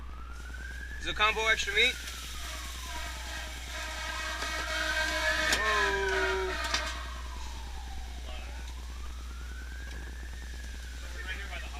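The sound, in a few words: ambulance sirens near a hospital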